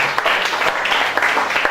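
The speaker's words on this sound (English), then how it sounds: "You are clapping for me." An audience at an asthma awareness workshop claps, loud and close, a continuous patter of many hands with a few sharper individual claps standing out.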